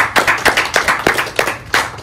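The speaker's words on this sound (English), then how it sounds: "Give it a round of applause." Applause for a contestant named Maddie at a Survivor Wisconsin finale: sparse, distinct handclaps in an irregular rhythm, a few hands clapping fairly close by, with no talking.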